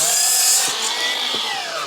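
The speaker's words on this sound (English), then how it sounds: "I'm just going to cut myself a rod quickly at" A power tool, apparently a circular saw, runs steadily and loud while cutting a timber rod during timber cladding batten work, its high whine holding throughout with brief dips as the blade bites.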